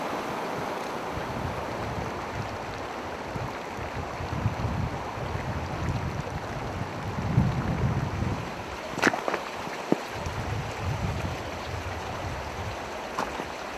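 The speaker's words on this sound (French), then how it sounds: "Énième passage de gué." Trekkers wading through an icy river in the Altai mountains of Mongolia, water rushing and splashing steadily around them with wind buffeting the microphone and a few sharp knocks, no voices.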